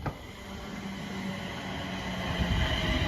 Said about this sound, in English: Then here's 39118 from Glasgow Central to London Eastern around the West Coast.